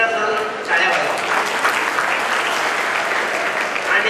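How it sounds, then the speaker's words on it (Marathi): An audience at a community awards and student felicitation ceremony in Solapur claps steadily and loudly for the full stretch, with dense applause and no talk over it. "त्याच्यासाठी एकदा सर्व टाळ्या वाजवा"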